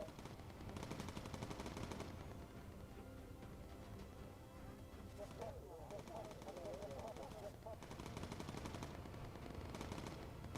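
Bursts of machine gun fire from an attacking Stuka-like enemy aircraft strafe a bomber's midsection in the video game Bomber Crew, loud rattling volleys repeating over continuous engine drone, with someone talking throughout.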